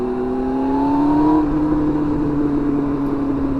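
A Yamaha R1 motorcycle engine running close by, its tone rising briefly as the revs climb, then settling into a steady drone, with no voices.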